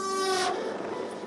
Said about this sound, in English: Is that a train? It's a train!